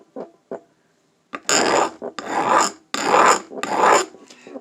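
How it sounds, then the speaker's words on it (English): Metal file rasping along rough sheet-metal edges to smooth away burrs, in a few short strokes and then four long, loud strokes in a steady back-and-forth rhythm, close and alone. "we will go ahead and we'll file that down until it's smooth"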